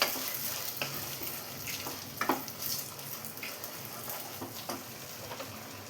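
A plantain mixture sizzles in an oiled pan while a spoon stirs it, with a steady frying hiss broken by irregular scraping and clacking strokes against the pan, close up and with no talking.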